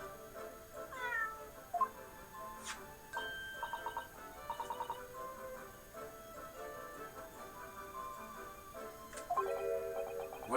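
A Cat Flap-O-Mat gadget in The Great Ace Attorney lets out several short synthetic meows, spaced irregularly over a quiet ticking background with little beeps.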